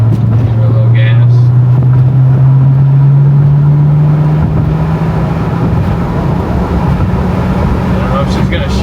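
A BMW X1 with an N55 turbocharged engine revs up in sport mode, a strong rising drone climbing steadily in pitch before leveling off as it shifts, loud and close with wind buffeting and a voice speaking over it.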